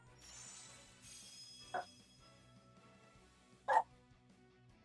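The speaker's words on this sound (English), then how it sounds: "Oh, my dog's barking." A dog gives two short, sharp barks a couple of seconds apart, somewhat distant and muffled under faint background music.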